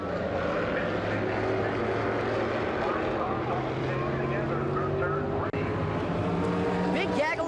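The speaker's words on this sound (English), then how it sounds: "Cars coming off turn number 3. Everybody's going to shuffle the deck going down the front straightaway." Vintage modified race cars roaring around the track at Concord Speedway, a continuous loud blend of engines at racing speed coming off a turn onto the front straightaway.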